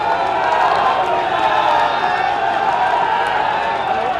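A large standing crowd at a public development-project ceremony in Kanpur gives a thunderous welcome to Yogi Adityanath, a loud, continuous roar of applause and crowd noise that holds steady without a break.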